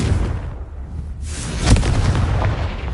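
A Confringo blast spell strikes rocks in the Hogwarts Legacy video game, a sharp explosive boom about halfway through over a rumbling game ambience.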